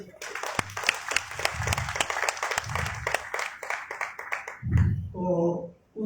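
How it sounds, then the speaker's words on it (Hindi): Audience applause at a Lahore petroleum dealers' association convention: scattered claps rise from the crowd, with a voice cutting in toward the end. "इसके लिए मैं समझता हूँ उनके लिए तालियां भी दें।"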